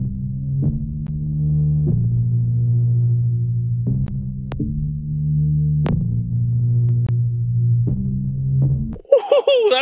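A synth bass plays through a Baby Audio Super VHS plugin with drift added, a warm, wobbling tone that repeats in steady notes with sharp clicks, ending in a brief higher chirp.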